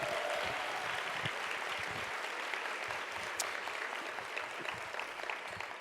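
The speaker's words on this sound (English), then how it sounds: "Let's give her one more big round of applause." Sustained audience applause at a charity fundraising luncheon, a dense steady wash of many hands clapping that fills the whole stretch at an even loudness, with a faint voice briefly surfacing beneath it.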